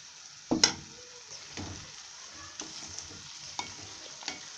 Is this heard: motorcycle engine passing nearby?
no